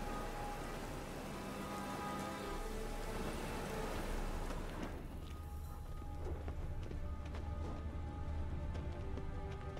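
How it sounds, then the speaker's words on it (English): Rain falls steadily in The Witcher 3 game world, a dense hiss of drops on surfaces with hurried footsteps splashing through it, moderately loud and continuous. "Must be mad running around in this rain."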